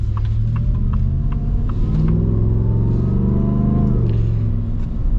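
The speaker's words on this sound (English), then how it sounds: "It's got this nice rumble to it" A deep, throaty 2025 Shelby F-150 pickup truck engine rumble revs and holds steady close by, loud and continuous throughout.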